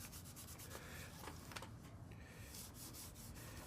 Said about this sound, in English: I'm just rubbing the residual that's on this cloth onto the